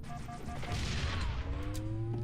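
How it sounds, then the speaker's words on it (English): An explosion in an online shooter game bursts through a quieter scene, a rolling boom with crackling debris that fades into a low rumble over a couple of seconds. "I heard an explosion"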